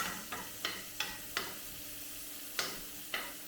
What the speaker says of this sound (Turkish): Soğanlarımız pembeleşinceye kadar kızartıyoruz diye biliyorum.